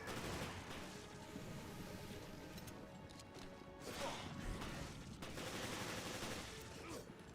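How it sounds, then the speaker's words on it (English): Gunfire in the video game Resident Evil: Revelations, a dense run of shots and impacts over a busy, noisy game soundtrack with a voice talking faintly underneath. "I'm gonna keep shooting you in the head"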